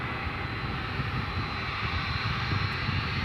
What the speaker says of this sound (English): It's the nightly flight to Doha from Qatar Airways.